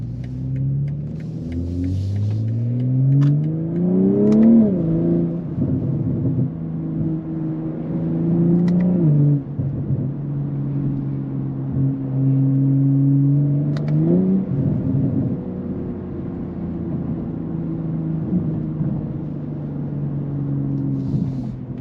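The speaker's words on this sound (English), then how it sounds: "you can get these things sounding pretty loud" 2022 BMW M340i with a muffler delete, its exhaust droning loud and deep as the car accelerates through several rising pulls, each ending in a brief drop before climbing again, heard from inside with no talking.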